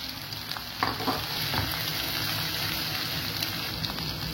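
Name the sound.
chopped ginger and garlic frying in pan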